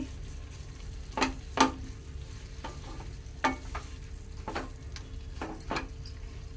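Low sizzling from a pan as carom (ajwain) leaves fry, with several scattered clinks and scrapes of a utensil stirring, fairly quiet throughout.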